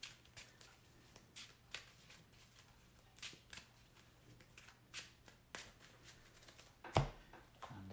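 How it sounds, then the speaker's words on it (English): A deck of investigator cards shuffled by hand on a table mat: a series of quick riffling bursts spaced about a second apart, with a sharper snap near the end, close and fairly quiet. "I'll just shuffle up my investigator deck on camera just to be on the safe side."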